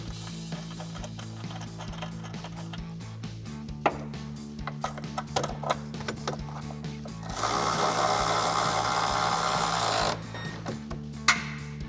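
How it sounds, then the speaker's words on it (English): A 13mm socket on a ratchet tightens a silver bolt with a washer into a side step bar bracket on a Jeep Gladiator JT, close-up clicking bursts with a steady mechanical hum behind and a louder noisy stretch midway. "tighten it down with a 13mm socket and a ratchet"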